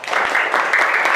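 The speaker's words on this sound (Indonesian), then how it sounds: "tepuk tangan buat Aji" Classmates clap for a student after his answer during a school science lesson in a classroom, a brief, dense burst of applause that holds steady throughout without any voices over it.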